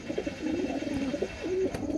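A pair of Taki pigeons coo in low, warbling, repeated phrases close by, with a faint background hiss and no talking.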